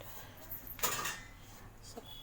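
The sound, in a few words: lid being put on a cooking pan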